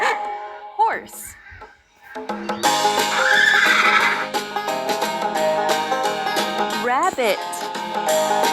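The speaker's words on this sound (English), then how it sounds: "horse," A horse neighs in a Lingokids farm-animal stacking game, a loud whinny with a falling, wavering pitch rising out of bright synthesized game music that plays on throughout.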